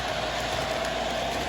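A model New Jersey Central switcher locomotive runs on a layout, giving a steady, loud mechanical hum and rumble with no breaks.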